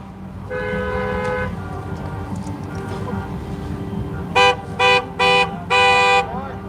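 Car horns honking at a street protest in Fort Erie: one long horn blast, then four short loud toots in quick succession over the rumble of idling traffic.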